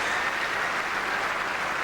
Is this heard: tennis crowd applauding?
yes